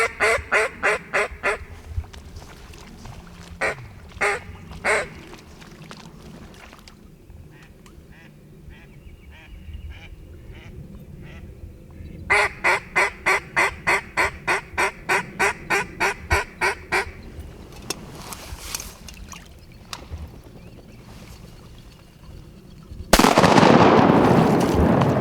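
Ducks and geese quack and honk from a cypress-lined hunting spot, alongside sharp rhythmic bursts from a duck call in fast repeated series, with quieter gaps between and a loud noisy rush near the end.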